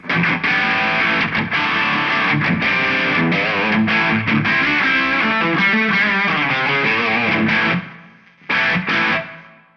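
A distorted electric guitar plays through an Eventide H90 reverb pedal with the decay raised, dense chords ringing loud and close before a brief pause, a short burst and a trailing fade.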